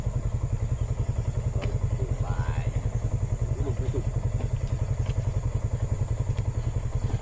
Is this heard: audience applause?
no